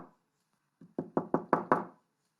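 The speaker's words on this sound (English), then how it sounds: "Every night, they heard chilling knocks from the wall." Knocking on a wall in a house, a faint tap followed by five firm, evenly spaced knocks, close and clear in silence.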